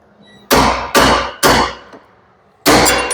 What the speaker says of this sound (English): So cold chisel first up here to knock off the rivets.